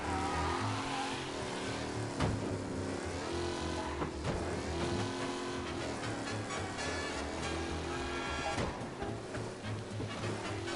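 A car engine hums and revs continuously while driving in a mafia-themed video game, the tone shifting with speed as it corners, loud and steady with no talking.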